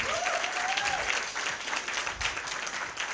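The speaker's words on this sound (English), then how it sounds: "Let's give her another round of applause" Audience applause at a live dating game show, a steady wash of clapping heard close and continuous through the whole span, with faint voices mixed in.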